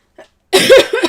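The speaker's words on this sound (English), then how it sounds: "coughing away here." A single person coughs sharply and loudly, with a faint breath just before and a second smaller cough at the end, all close and alone.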